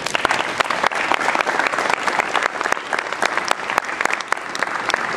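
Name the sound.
applause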